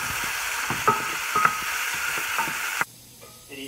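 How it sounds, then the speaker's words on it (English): Turmeric-coated meat for ghormeh sabzi sizzles in a pot over medium heat as it is stirred and spread, with a few spoon scrapes before the frying noise suddenly drops away near the end. "make sure you spread all the meat evenly"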